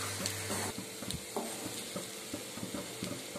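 Chicken fries in a pan with garam masala, giving a continuous close sizzle broken by scraping and clinking as it is stirred, with no voices.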